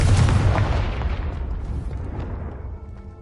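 Confringo fire spell blast in Hogwarts Legacy, a loud booming explosion at the start that rumbles and decays over about three seconds, with no talk.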